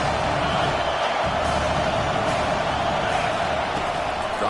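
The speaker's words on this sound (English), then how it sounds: "Third down and the crowd really getting into it." A football stadium crowd roars on third down, a dense, continuous wall of cheering that holds loud and steady throughout.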